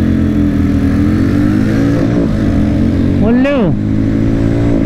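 A Guerrilla 450 and a Maverick 440 motorcycle accelerate hard in a drag race, their engines revving loud and close with rising pitch sweeps and gear-change dips, while a voice speaks briefly over the roar.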